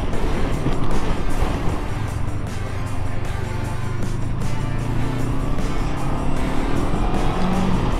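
A Honda CB500X motorcycle accelerates on the road, its engine a steady, close, loud drone rising in pitch under constant wind rush.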